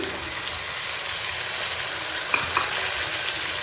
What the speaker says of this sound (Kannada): ಈಗ ನಾವು ಕಟ್ ಮಾಡಿಕೊಂಡಿರುವಂತಹ ತರಕಾರಿ ಬೀ ಕ್ಯಾರೆಟ್ ಹಾಗೆ ಬೀನ್ಸ್ ಆ್ಯಡ್ ಮಾಡ್ಕೊಳ್ಳೋಣ